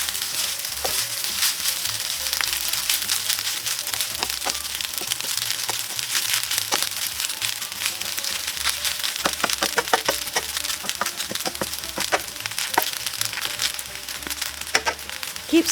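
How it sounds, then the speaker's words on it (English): Kimchi fried rice with ground beef and a cracked egg crackles steadily in a hot pan as the rice crisps on the bottom, a dense, continuous close sizzle with scattered sharp pops and scraping stirs throughout. "Wait, what's that sound? Crispy rice at the bottom?"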